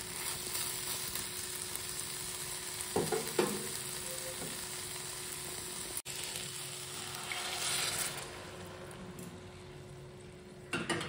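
Potato and cauliflower cook in a pan with a steady sizzle and frying hiss, broken by a few stirring scrapes and a brief splash as hot water goes in.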